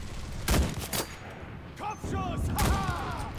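Gunfire in the WWII shooter Enlisted: a few sharp broadband bursts of shots near the start, then a quieter stretch with someone talking over the battle noise.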